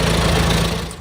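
Engine of a 1937 Farmall F20 tractor at a Memorial Day parade in Indiana, running with a loud, close, steady low rumble throughout, no voices.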